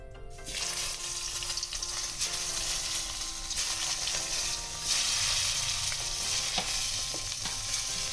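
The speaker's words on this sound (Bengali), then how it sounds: "বেগুনটাকে আমি ভেজে তুলে নিচ্ছি।" Eggplant frying in the hot oil left in a pan after fish was fried there, producing a continuous, dense, close sizzle with a few soft spatters and no talking.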